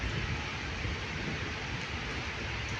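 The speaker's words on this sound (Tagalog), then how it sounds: "mukhang matagal ang ulan na to kasi mahina eh" Light rain falls steadily under a dark sky, a soft continuous hiss with no voices and no distinct drops standing out.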